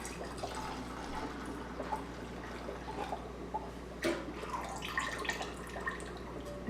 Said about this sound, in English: I'm going to pour most of it back in, and then pour some of the warm syrup in here